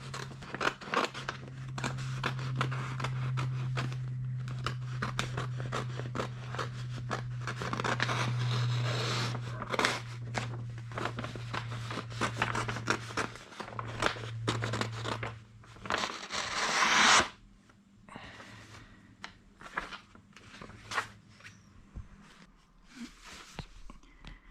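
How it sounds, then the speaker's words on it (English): Vinyl wrap film being cut roughly into shape with scissors, a run of close, dry snipping and crinkling strokes over a steady low hum, ending in a louder rustle. "First we cut it roughly into shape."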